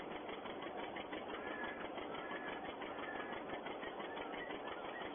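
A 1951 farm tractor engine runs in a steady, unbroken chugging drone with a slightly rattly, mechanical texture. Its loudness holds even from start to finish, and no one talks over it.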